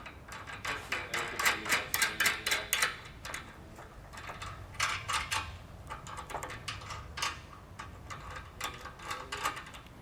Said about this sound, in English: we just want to get that all the way tightened down